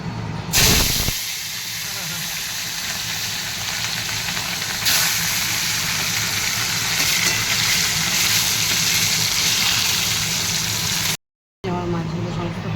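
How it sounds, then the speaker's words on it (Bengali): Bhola fish slid into hot oil in a pan, starting with a loud burst of spitting that settles into a steady broad hiss and sizzle, close by, with a brief dropout near the end. "মাছগুলো ভেজে দিই, আমার তেল গরম হয়ে গেছে"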